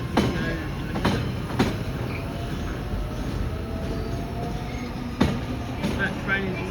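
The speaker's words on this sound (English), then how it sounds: "here comes my train" A train arrives at Ōtāhuhu station in Auckland, its wheels rumbling low and steady with a few sharp rail clicks and faint squeals, while someone talks briefly at moderate distance.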